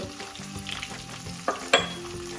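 Green chillies and asafoetida sizzle in hot tempering oil for curd rice, a crackling fry broken by two sharp spluttering pops near the end, close by with no talking.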